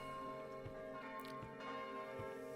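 A church bell in the Kingdom: Two Crowns video game rings in a low, steady, resonant toll with a few soft repeated strikes, fairly quiet and unaccompanied by talk.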